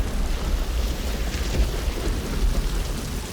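Heavy rain pours down with low thunder rumbling underneath, a dense, steady roar of a nighttime storm with no voices.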